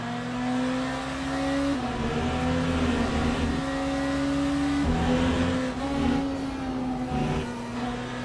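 A BMW hypercar in Le Mans Ultimate races at Qatar, its engine droning loud and close with steady pitch shifts as the gears change and the revs rise and fall.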